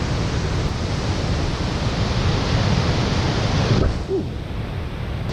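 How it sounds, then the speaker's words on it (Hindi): Steady heavy monsoon rain pours down on a Himalayan mountain trek, a dense broadband hiss that holds constant throughout, with a brief soft disturbance near the end and no speech. "देखो बारिश छूटने का नाम ही नहीं ले रही है।"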